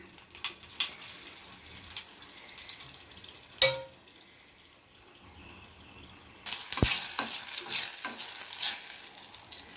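Dried red chillies dropped into hot oil for a tempering, a steady close sizzle and crackle that swells loudly in the final few seconds, with a brief clank of utensil partway through.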